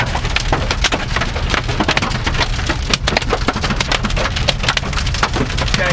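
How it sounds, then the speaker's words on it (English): Big hail hammering a storm chaser's vehicle during a prairie thunderstorm, a loud, dense, continuous clatter of hard stones striking metal and glass close by. "oh yeah, big hail. Got some big hail here."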